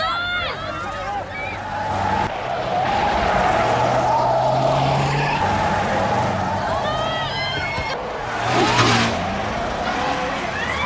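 A city bus in the 1994 film Speed turns sharply with tires skidding and squealing under engine roar, loud and sustained, with a voice speaking over it throughout.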